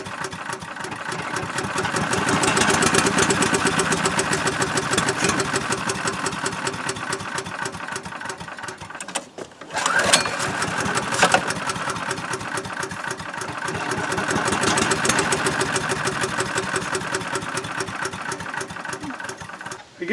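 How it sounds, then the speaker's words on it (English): Small gasoline engine of an Earthquake chipper shredder, newly fitted with a replacement carburetor and a cleaned rusted gas tank, running with a steady rapid chug, briefly dipping out midway before picking back up, close and loud. "push gasoline down here, and then start it, it will run."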